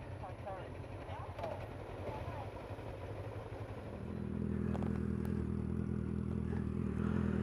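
A Mook motorcycle running with no exhaust drones loudly at Newlands Corner in Surrey, its low rough engine note swelling and holding steady after a few seconds of someone talking over wind.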